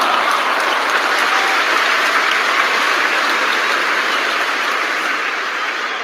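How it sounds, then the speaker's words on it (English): Sustained, dense applause from a group on a live morning call, steady and loud throughout with no break and no talking over it. "let me give a big applause for those"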